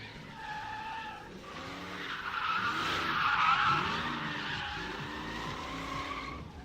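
A big-block truck drifts at a live drift event, its tires squealing and skidding in long wavering screeches over a deep, loud, torquey engine drone that swells and fades nearby.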